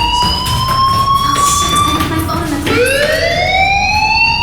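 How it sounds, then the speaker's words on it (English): Fire alarm in the Life is Strange video game, a loud steady electronic wail that holds one pitch, dips briefly, then sweeps back upward and keeps sounding, alone without talk. "do you hear that fire alarm? That means you should be outside."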